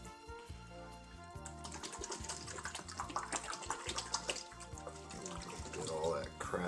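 Hot water sloshes and gurgles through a water-cooled PC radiator being flushed during cleaning, a busy, continuous splashing close by with some handling noise.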